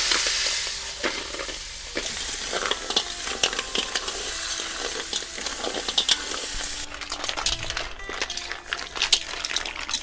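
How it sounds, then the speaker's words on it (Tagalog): Native tuway-tuway shells sauté in a pan with golden-brown garlic and onion in Masbate, giving a loud, continuous sizzle with frequent clattering stirs as the shells knock against the pan. "ilalagay na ng ating kaibigan na si Nyuko TV yung mga tuway-tuway"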